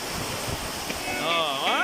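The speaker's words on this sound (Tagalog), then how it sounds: "Perti kusugas sa Uwan. Napay hangin, oh." Steady broadband rush of heavy rain and gusting wind, close and constant, with a voice speaking over it in Hiligaynon toward the end.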